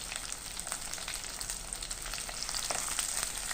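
Sliced large onion and crushed ginger frying in oil for an egg curry, a soft, steady crackling sizzle heard close but at low volume, with faint stirring and no talk.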